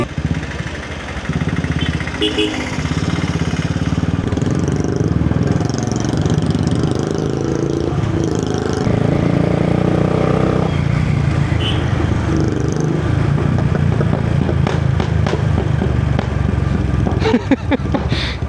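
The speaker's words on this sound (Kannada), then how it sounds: "ಎರಡೆರಡು ಬೈಕ್ ಸೌಂಡ್ ಆಗ್ತಿತ್ತು ಬಾರೆ, ಫಟ್ ಫಟ್ ಫಟ್ ಅಂತ." Two motorcycles run steadily close by, a loud, continuous engine drone with a throbbing, idling-like rhythm that lasts the whole stretch and briefly swells near the end.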